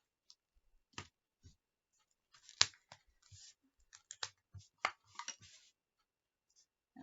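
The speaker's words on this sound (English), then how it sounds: "let's go ahead and get my snips" Snips cut through ribbon at a craft table, giving a string of faint, crisp snipping clicks in irregular bursts close by, with no voices.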